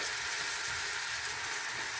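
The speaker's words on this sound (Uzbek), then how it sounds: "Yaxshilab qovurib olamiz." Red and green bell peppers fry in hot oil for mastava, an Uzbek soup, giving a close, steady sizzling hiss throughout.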